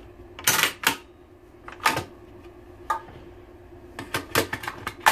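Sharp metallic clacks and snaps ring out from an SK-15/17 rifle, a couple of close bursts early, one lighter click midway, then a quick cluster of clicks at the end; no talking.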